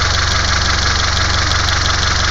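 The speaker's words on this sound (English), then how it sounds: "Fans came on." A car's electric engine cooling fan runs steadily with the engine idling, a loud, constant whir and hum with no talk.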